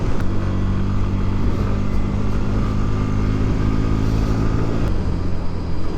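A Bajaj Pulsar NS160 motorcycle, a 160cc performance bike, being ridden with a steady engine drone and rumble that holds close and loud throughout without pause.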